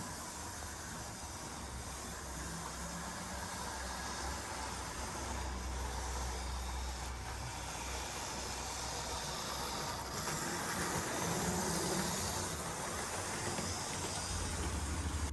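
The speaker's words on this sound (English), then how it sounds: "I'm just going to leave you now with some clips of the trains running around." A continuous rumbling rattle of model trains, including an HST, running steadily on a layout, with a constant hiss and gentle swells in loudness throughout.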